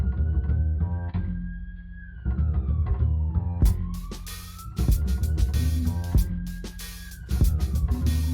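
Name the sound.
police sirens approaching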